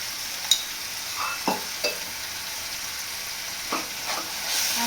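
Palak paneer frying in desi ghee, a steady close sizzle and hiss with a few soft spoon taps and stirring scrapes, with no talking.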